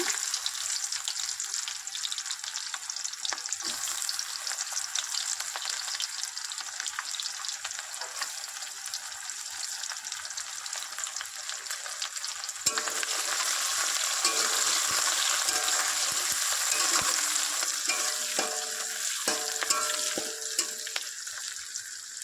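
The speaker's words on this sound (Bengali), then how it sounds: "পেঁয়াজটা ভেজে নেব" Chopped onion frying in a pan for a spicy fish roe dish gives a continuous sizzle, louder and more crackly in the second half, with occasional stirring and brief tonal clinks near the end and no talking.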